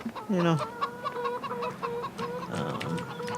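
Clucking from a chicken in the farm game Farming Simulator 2013: a sharp squawk, then a steady run of repeated clucks, close and fairly loud, with no voices over them.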